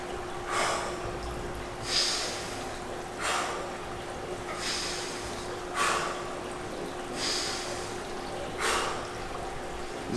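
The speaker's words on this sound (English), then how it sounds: "This is some Wim Hof breathing." Wim Hof-style cyclical breathing sounds close to the mic, with deep, forceful breaths repeating at a steady pace of about one every one to two seconds over a faint constant hum.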